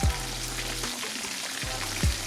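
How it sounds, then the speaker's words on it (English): Buffalo fish fries in a cast iron skillet with a continuous, close crackling sizzle, broken by a couple of soft low thumps. "look good to see that good fish frying in that skillet"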